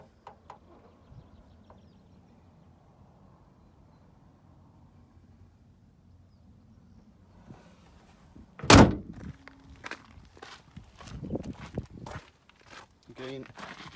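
Quiet hum, then a single sharp, loud door slam of a 1997 Autosleeper Duetto Ford Transit camper van, followed by a few softer clunks and footsteps.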